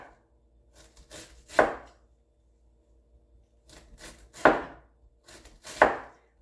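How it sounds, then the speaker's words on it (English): Cabbage chopped by hand with a knife on a board: three sharp, close chops, each led in by softer cutting strokes, with quiet gaps in between. "when you're chopping it yourself"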